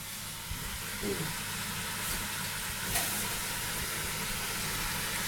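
Food sizzling steadily in a hot pan, a continuous even hiss that stays constant throughout with no voices.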